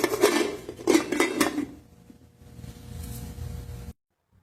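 A lid is set over a pot of soaking dried beans, with a few clanging metal knocks and rattles up front, then a quieter rustle before the sound cuts off.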